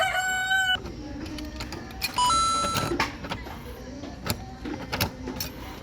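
A coin-operated rooster zodiac attraction at Namsan, Seoul, sounds off with a loud, electronic-toned crow and bursts of clucking between beeping tones, in a busy outdoor setting with people talking nearby.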